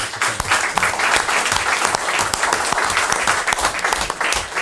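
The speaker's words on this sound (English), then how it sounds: "So I think we owe the Ambulance Corps a big round of applause." A room full of people at a town board meeting breaks into steady, dense applause, loud and close, continuing evenly throughout.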